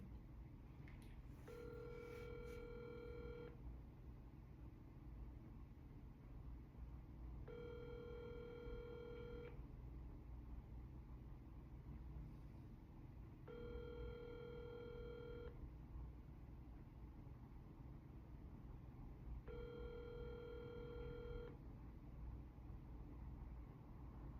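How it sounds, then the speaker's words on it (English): A cold call on the telephone gives four evenly spaced ringback tones about six seconds apart, each lasting two seconds, over faint steady line hiss after a brief dialing blip. "Dialing."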